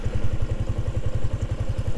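Yamaha Sniper 155 VVA 2023 motorcycle engine running right after starting, a steady close-up idle with a fast, even low thumping pulse and light mechanical clatter.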